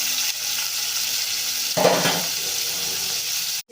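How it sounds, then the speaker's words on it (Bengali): Prawns fry in mustard oil with a steady close sizzle, and a brief louder burst of spitting midway through. "2 চামচের মতো সর্ষের তেল দিয়ে দিলাম, দিয়ে এবার এই 2-4টে চিংড়ি মাছ ছিল দিয়ে দিলাম এর মধ্যে"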